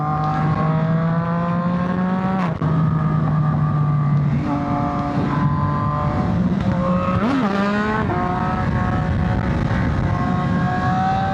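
Motorcycles on a highway group ride roar past in flybys, loud engines revving and shifting through gears with pitch sweeps as bikes pass close, a continuous, dense mechanical din without speech.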